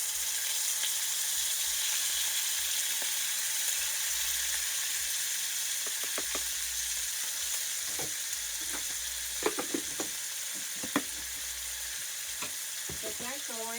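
Puerto Rican sofrito frying and sizzling in a pot for rice and beans, a steady crackling hiss with occasional clinks and scrapes of stirring near the end.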